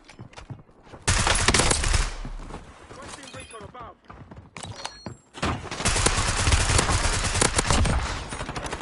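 Enemy gunfire rattles through a Warzone match in long, loud bursts of rapid automatic fire with a short lull in the middle. Players talk over the shooting.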